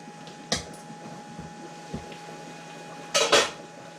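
A few clinks and clatters of glass canning jars being lifted out of boiling water, two sharp knocks early and a louder cluster near the end, over a faint steady hum.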